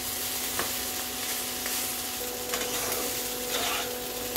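Spice paste sautéed and stirred in a pan with garlic for a raw pumpkin curry, giving a steady sizzle with soft scraping stirs throughout, close and moderately loud, no talk.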